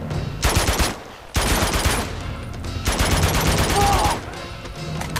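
Blind-fire gunfire in the Uncharted 2: Among Thieves video game, loud rapid bursts of automatic shots in several clusters with short gaps, mixed with voices talking.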